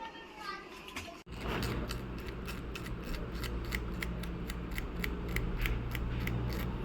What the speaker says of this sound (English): We cut the flex gate cable.